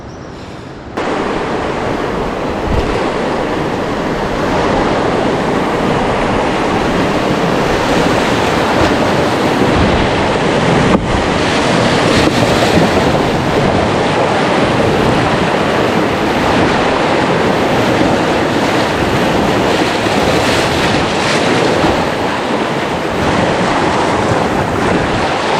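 A churning jungle river rapid during a boat expedition roars loudly and continuously, dense broadband rushing water with wind buffeting the microphone, close and unbroken throughout.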